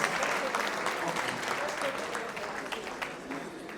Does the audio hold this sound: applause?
yes